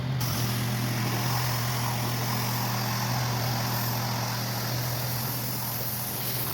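Pressure washer with a turbo nozzle spraying the siding of a house, a steady, loud, continuous hiss and engine drone close by, unbroken for the whole stretch with no talking.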